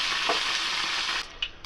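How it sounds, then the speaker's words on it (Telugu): Chana dal, cumin, mustard seeds, dried chillies and curry leaves tempering in hot oil, a loud, close, steady sizzle with a few crackles and a clink of stirring near the end. "చూడండి, పోపు బాగా వేగింది."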